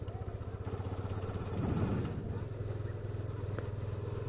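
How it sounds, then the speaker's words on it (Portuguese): Yamaha FZ25 motorcycle ridden slowly at night in cool weather, its steady low engine drone holding close and continuous, swelling briefly midway before settling back. "Andar de moto com um tempinho fresco desse é top."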